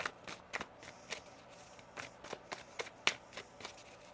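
A deck of tarot cards is shuffled by hand in a series of soft, close riffling flicks at an irregular rhythm, quiet and unaccompanied by speech.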